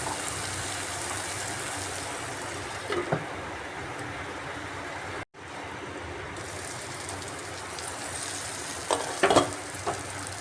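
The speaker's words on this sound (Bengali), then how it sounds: "এই টমেটোটা দিয়েও মশলাটাকে আর একটু ঢেকে ঢেকে আমি কষিয়ে নিচ্ছি" Spice masala with tomato sautéing in a covered pan, a steady close sizzle and frying hiss throughout, with a brief cut in the middle and a few scraping stirs near the end.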